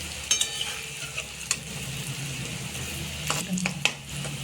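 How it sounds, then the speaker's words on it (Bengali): Chickpea lentil dhoka pieces sizzle softly in hot oil, with a steady low crackle and a few light taps and clinks of a utensil against the pan. "এবার একটা একটা করে গরম তেলে ছেড়ে দিলাম"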